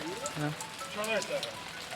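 Steady rain patters on a surface throughout, with a voice talking over it, outdoors in Paxtakor, Jizzakh, Uzbekistan.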